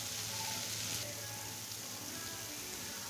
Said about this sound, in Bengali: আমি বেশি করে ভাজবো না, আধা কাঁচা করে ভাজবো